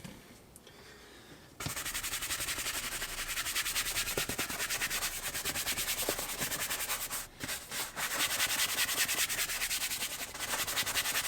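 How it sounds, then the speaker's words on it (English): A stiff brush scrubs a white vegan leather Tesla car seat back and forth continuously in a fast, steady rhythm, close up, with a brief pause partway through. "So right now we're just agitating, getting the dirt that's deep down in the creases of the vegan leather."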